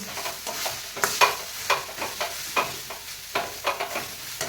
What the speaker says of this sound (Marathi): आणि आता हे बेसन पीठ सुद्धा आपल्याला या कांद्यामध्ये व मेथीमध्ये छान असं मिक्स करून घ्यायचं